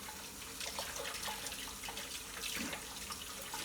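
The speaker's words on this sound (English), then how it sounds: "I'm simply going to turn this on. I'm just going to rinse" Water runs steadily from a tap into a sink while a reusable mask with a high-grade filter is rinsed by hand, a moderate continuous splashing stream with small irregular spatters throughout.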